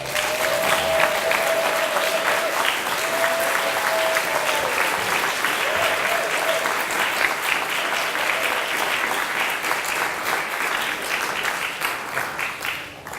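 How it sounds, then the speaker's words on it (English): Sustained applause from an audience at a wellness program event, steady and full for the whole stretch, with faint tonal notes and background murmur early on. "Could everyone give her a huge round of applause?"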